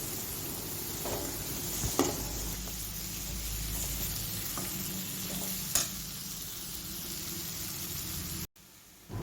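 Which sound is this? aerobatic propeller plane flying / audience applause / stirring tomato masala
stirring tomato masala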